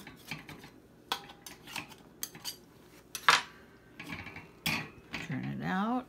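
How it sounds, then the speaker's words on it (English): A spatula scrapes around the inside of a metal loaf pan holding sweetened condensed milk bread, with close, scattered clinks and scrapes, a cough and some murmured voice. "Let's run a little spatula around it."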